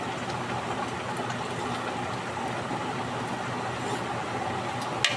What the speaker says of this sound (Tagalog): naririnig mo po ang malakas ang ulan sa labas.